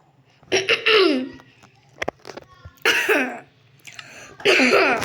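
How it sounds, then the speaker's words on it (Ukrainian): A few loud, harsh coughs in separate bursts, close by, with quiet pauses and small throat sounds between them. "Вибачте, що я кашляю, трішки прихворів."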